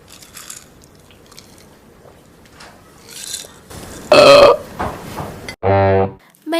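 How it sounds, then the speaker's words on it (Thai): A single loud, close, throaty burp bursts out near the end, after quieter crunchy chewing-like sounds and brief noises. "ไม่ควรปล่อยเสียงเรอออกมา"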